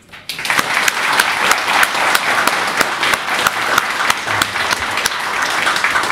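An audience in a meeting hall breaks into steady applause, with many hands clapping densely and evenly for several seconds, loud and close after a brief quiet start.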